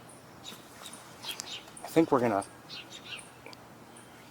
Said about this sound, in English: definitely house sparrows, and something else making a chipping sound